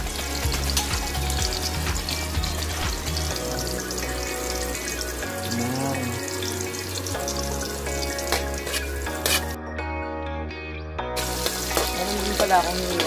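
Shrimp paste (bagoong) for kare-kare sizzles as it is sautéed in a pan, a steady close frying hiss with occasional stirring clinks and a few faint background tones.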